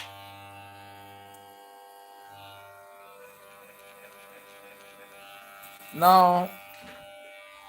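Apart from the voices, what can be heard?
electric hair clipper running after blade sharpening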